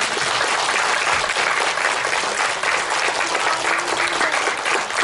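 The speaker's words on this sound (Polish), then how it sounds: "Także jeszcze raz duże brawa." Audience applause for a school theatre performance by young pupils at a primary school in Sztum, a dense, steady clapping from a full room that holds loud and even throughout.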